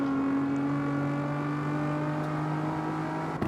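A steady, sustained Lamborghini engine drone in the video game CarX Street hums at a constant pitch, like a car motor holding its revs, with no speech over it.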